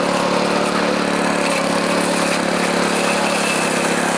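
Steady drone of a 7-horsepower remote-controlled robot mower engine running continuously at close range, a constant mid-pitched hum with no talk over it.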